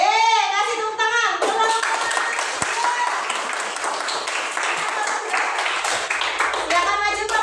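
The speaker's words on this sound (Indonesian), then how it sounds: "kasih tepuk tangan" Children in a classroom clap their hands together in a steady burst of group applause after a science group's answers, with a teacher's voice heard briefly before and after.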